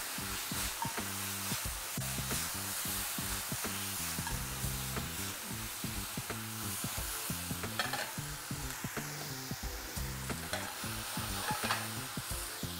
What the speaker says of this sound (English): we're just going to have a little bit of soy sauce in there